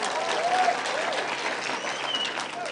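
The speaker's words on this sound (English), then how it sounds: "Please clap for her." An audience applauds Honorable Sabina Chege at a youth mentorship forum in Nyeri, a dense, steady clapping from a crowd filling the room, fairly loud and sustained throughout.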